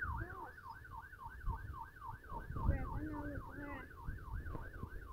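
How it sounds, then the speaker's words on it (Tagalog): A wailing fire truck siren from the Roblox game Brookhaven sweeps up and down in a steady, rapid cycle, loud and continuous throughout, with light game noise underneath. "There's a fire truck."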